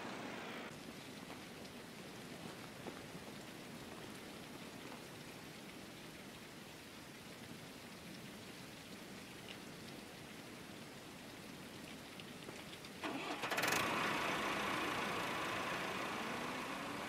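Steady rain falls in a farming video game, a continuous soft hiss of rainfall with a low engine idling underneath, swelling briefly louder near the end.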